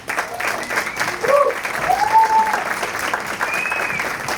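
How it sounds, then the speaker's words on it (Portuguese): Audience applause welcoming the next speaker at a business talk, steady clapping throughout with some faint voices and tonal sounds mixed in. "Recebam com muitos aplausos nosso próximo palestrante, Fábio Menezes."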